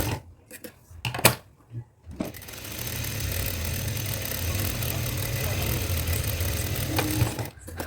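Sewing machine stitching churidar pants, a steady fast mechanical whirring run lasting several seconds after a few short starts and clicks, close and fairly loud, with someone speaking around it.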